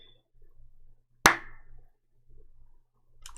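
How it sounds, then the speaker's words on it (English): A single sharp hand clap lands near the middle, loud and close, with a short ringing tail, amid quiet background with faint low hum. "Let me know when you hear this clap"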